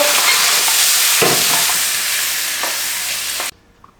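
Loud, close sizzling as pork and onions are stir-fried in a hot pan, with scraping stir sounds, cutting off abruptly near the end.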